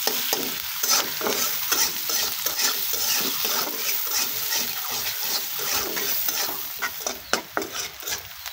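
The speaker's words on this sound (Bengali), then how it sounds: "এখন এই তেলের মধ্যে দিয়ে দেব কেটে রাখা পেঁয়াজগুলো, দিয়ে একটু ভালো করে বাদামি রঙ করে ভেজে নেব" Chopped onions sizzling in hot oil as they fry toward brown, a steady crackling hiss broken by repeated scraping stirs of a spoon against the pan, close and busy throughout.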